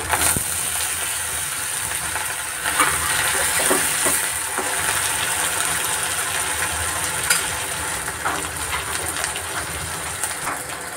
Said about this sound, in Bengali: ভালো করে টমেটো কষিয়ে নিচ্ছি।